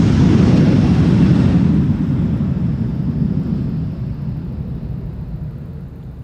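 Airliner taking off from Schiphol's Polderbaan runway 36L, a 14-year-old aircraft first flown in April 2011. A loud, broad jet roar fades steadily as the plane climbs away. No voices are heard.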